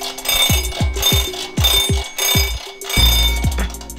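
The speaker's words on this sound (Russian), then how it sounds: "Итак, мы заводим будильник." A rapid series of mechanical clicks and tonal chimes, like an alarm clock being wound, with a louder ringing burst near the end.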